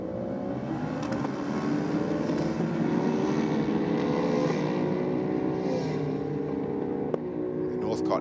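Drag race between a 900 cc Yamaha Triple and a Ducati motorcycle at a championship meeting, with a loud sustained engine roar rising in pitch as the bikes accelerate down the strip.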